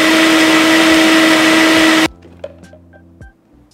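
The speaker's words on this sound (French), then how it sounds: "C'est déjà prêt pour un petit tour dans le mixeur." A kitchen blender crushes ice for a gin and limoncello slush, a loud dense whirring roar that runs steadily for about two seconds and then cuts off abruptly, leaving faint clicks and quiet room noise.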